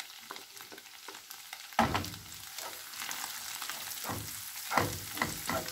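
Coriander sizzles as it is fried in butter in a pan, a steady crackling hiss that surges louder as the leaves hit the fat, with stirring scrapes in between and no talk.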